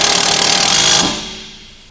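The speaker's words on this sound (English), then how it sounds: "Now use a 17mm deep socket with an impact to tighten the bolt." An impact wrench with a 17mm deep socket tightens a bolt while installing T6 coilovers on a Honda Civic FK, giving a loud, steady, close whirring rattle for about a second before it cuts off and fades.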